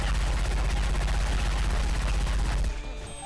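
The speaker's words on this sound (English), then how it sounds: "Actually, a cat that fires explosive ammunition." Rapid explosive gunfire bursts from a cat firing explosive ammunition in a Left 4 Dead 2 mod, a dense loud fusillade for almost three seconds that then cuts off abruptly, leaving quieter game sounds.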